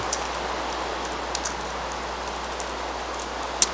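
Rain in the Minecraft video game falls as a faint, steady hiss that continues evenly throughout, with a few soft drop ticks and no voices.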